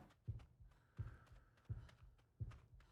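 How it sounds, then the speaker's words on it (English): Slow, heavy heartbeat signalling low health in the video game ARK: Survival Ascended, four deep thumps evenly spaced about 1.2 seconds apart, alone over a faint low hum. "you hear like the heartbeat ringing in your ears for ages"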